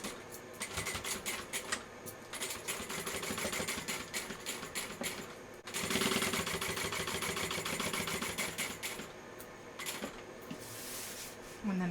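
A domestic sewing machine stitches a fabric backpack in a steady mechanical run, a rapid needle chatter that pauses briefly midway and then resumes at similar loudness, with quiet talk underneath.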